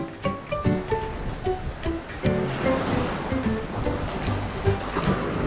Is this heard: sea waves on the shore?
yes